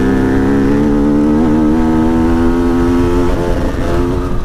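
A small 85cc motorcycle engine revs loud and close, holding a steady high buzz with slight pitch swells and no voices over it.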